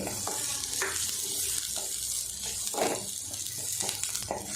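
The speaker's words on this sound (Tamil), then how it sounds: "மீடியம் ஃப்ளேம்லேயே பூண்டையும் வதக்கிட்டோம்" Five cloves of garlic sautéing with onion in oil over a medium flame, a steady sizzle with repeated stirring scrapes and soft splutters at close range.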